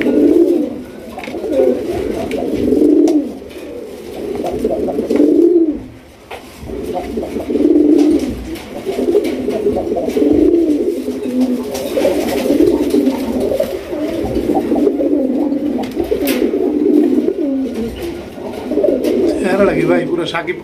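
Raj Golla pigeons of a large black breed coo in repeated low, throaty rolls that swell and fade, close and fairly loud, with a brief lull partway through.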